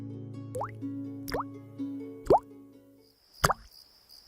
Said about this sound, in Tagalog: Pumapatak ang tubig ulan at tumatama ito sa arinola ng matanda